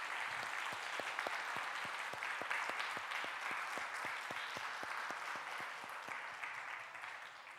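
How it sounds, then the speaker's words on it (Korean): A church congregation at a Sunday service applauds in a warm, sustained burst of many clapping hands that fades slightly toward the end. "자리에 잠깐 일어나시면 우리 박수로 환영하겠습니다."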